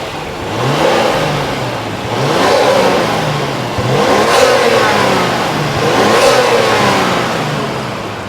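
Nissan Skyline ER34 sedan 25GT-X with an RB25DET turbo engine and five-speed manual, about 70,000 km, revs repeatedly in rising and falling swells, loud and near, with no talk.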